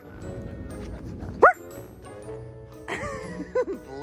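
Puppies let out a few short, sharp yips and barks close by, separated by pauses, with whimpering and some background rustling.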